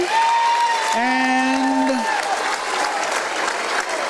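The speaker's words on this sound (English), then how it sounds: "So Mendham fans are clapping for a substitution." Mendham fans at a high school boys varsity basketball tournament game clap steadily in a dense wash of applause from a gym crowd, with a commentator talking over it.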